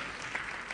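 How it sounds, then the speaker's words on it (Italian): An audience at a live stage show claps in dense, steady applause that fills the entire short moment, with no voices heard above it. "L'applauso vostro senz'altro mi sembra immeritato"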